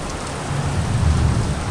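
Steady rain falls hard and close while a deep thunder rumble rises partway through and lingers under the downpour.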